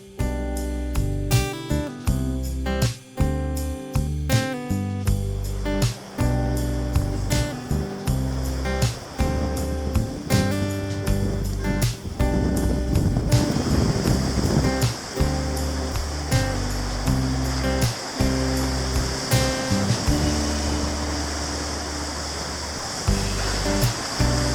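Ocean waves breaking and washing up a beach on the Gower, a steady close rush of surf with repeated swells over about twenty-five seconds, no voices.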